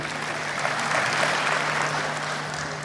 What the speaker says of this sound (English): A round of applause for Dr. Barry, please.